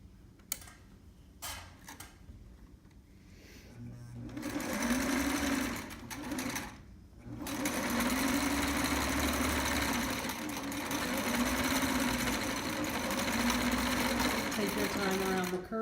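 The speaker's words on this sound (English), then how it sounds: "And now it's going to get sewn at 1/2 inch all the way around." A sewing machine stitches a trapper hat at a half-inch seam allowance. Quiet handling and pauses come first, then a loud, continuous mechanical whirr of rapid needle strokes runs steadily with only a brief break.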